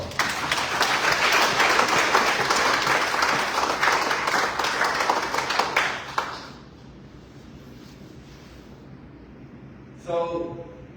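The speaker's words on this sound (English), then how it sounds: "Let's give them a round of applause." Audience at a Northern Mariana Islands Football Association congress applauds its coaches and players, loud sustained clapping for about six seconds that fades out, followed by quiet and a brief voice.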